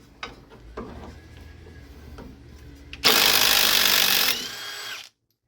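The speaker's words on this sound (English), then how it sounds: "we need a 15mm socket on our impact gun. And we should be able to just spin this nut directly off here" Impact gun with a 15mm socket spinning a nut off a Ford Mustang's suspension during a lowering-spring install, a loud continuous whirring rattle lasting over a second after some lighter clinks, then stopping abruptly.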